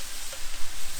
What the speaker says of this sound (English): So our pork mince frying off.